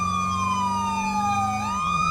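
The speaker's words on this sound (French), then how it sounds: "je vois un camion là-bas, je tire aux sirènes." The siren of a fire engine wails close by with a loud, steady tone that sweeps down slowly and then climbs again, over the rumble of the truck's engine.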